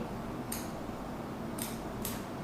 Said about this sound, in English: we're going to take scissors and we are going to cut the middle cell all the way